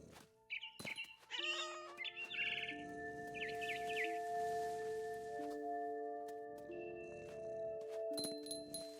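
Game birds chirp in What Remains of Edith Finch: several short, bright tweets and trills near the start, followed by a faint ambient bed with sustained tonal music and occasional soft clinks, all fairly quiet.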